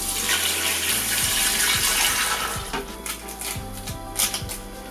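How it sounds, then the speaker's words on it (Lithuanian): Cold water running from a tap while cooking minced pike, a steady hiss of flowing water that thins toward the end, with a few low knocks and clatters alongside. "Dabar šalto vandens ir viskas."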